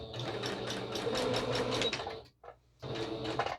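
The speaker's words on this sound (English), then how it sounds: "I'm going to go ahead and sew a straight line across the whole block" A sewing machine stitches a straight line across a fabric quilt block, its fast steady whir running loud and close, stopping briefly, then resuming.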